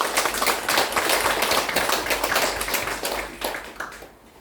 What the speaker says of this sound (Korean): 우리 노회장님께도 감사의 박수 한번 해주세요